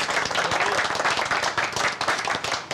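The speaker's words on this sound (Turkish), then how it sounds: "Bir alkış." A crowd of people claps in a short, dense burst of applause, loud and steady throughout, with faint voices mixed in.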